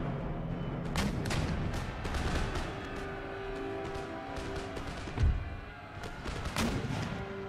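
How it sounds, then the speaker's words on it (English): Musket volleys in an Empire Total War battle, repeated crackling gunfire bursts and dull thumps at mid distance over a steady battlefield rumble, with no clear talk. "Oh no, they are shooting to the back of that unit."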